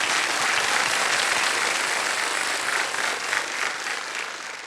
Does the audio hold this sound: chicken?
no